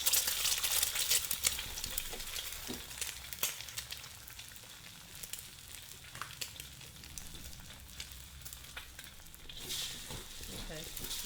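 An egg cracked into oil in a pan sizzles and spits steadily, the frying loud at first and then settling into a continuous crackle, with a few clinks from the pan and no speech.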